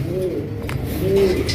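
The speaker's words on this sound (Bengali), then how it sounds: "দেখেন স্প্যানিশ চড়া কবুতর মাশাআল্লাহ, এই যে ডাকাডাকি করতেছে এটা নর" A male Spanish pigeon coos close by in two low, rolling calls, heard over a steady background hum.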